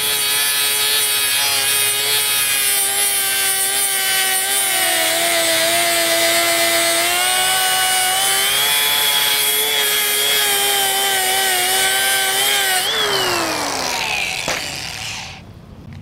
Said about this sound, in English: You can see exactly the correct amount of material removed more rapidly and efficiently because of that segmented sanding disc.